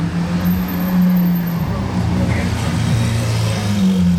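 A Ferrari sports car with its exhaust valve closed hums past at moderate volume in Monaco, a steady low drone that shifts in pitch as it goes by, with road noise beneath.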